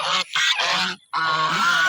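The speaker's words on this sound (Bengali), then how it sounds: "এখানে পঁচিশটার মতো রাজহাঁস" Loud, nasal honking from a flock of about twenty-five domestic geese nearby, three or four harsh calls in quick succession with a short gap between them.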